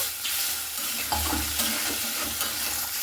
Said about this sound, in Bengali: এরপরে জলটা দিয়ে খুব সুন্দর করে আবার একটু নাড়াচাড়া করে নিচ্ছি